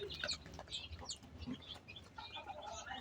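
Day-old chicks chirp in a steady scatter of short, high peeps while drinking water. The peeps are close and overlap, with no talking.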